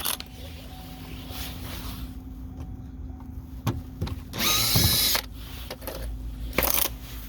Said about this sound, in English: Then I got a drill here.